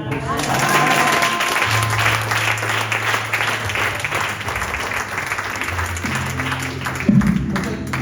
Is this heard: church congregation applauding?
yes